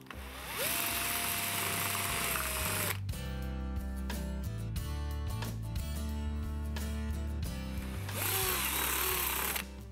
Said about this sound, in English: we've finished drilling the hole